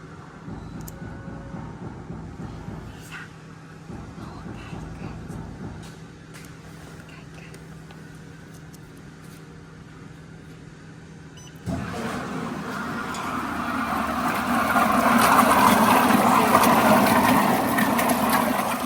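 A LIANHE VME-25L emulsifying mixer starts its oil-water pot: a quiet hum with faint clicks gives way to a sudden louder motor whir that builds into a steady churning, water-like rumble near the machine.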